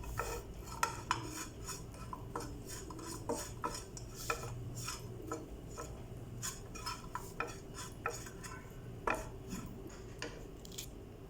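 About ten pitted dates heated and stirred in a pan over a low flame, a spoon scraping and clinking steadily against the metal, close and fairly quiet with no talk.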